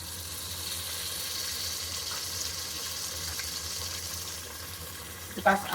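Ginger garlic paste frying in a pan for bhuna khichuri, a steady low sizzle and hiss that runs throughout, with a brief clatter of a utensil near the end.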